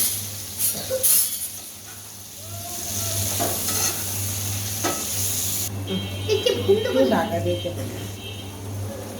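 Ingredients drop into a pan of hot spice masala and set off a loud, close sizzle and hiss, followed by stirring. A person talks over the cooking.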